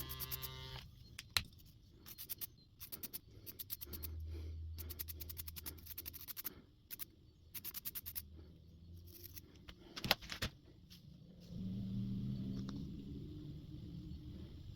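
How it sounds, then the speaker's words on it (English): A vibrating toothbrush scrubs a Toro lawnmower carburetor in quick, stuttering bursts of quiet electric buzzing, with brief clinks of metal parts between passes and a low hum toward the end. "let's use my vibrating toothbrush to try and clean that up a little more."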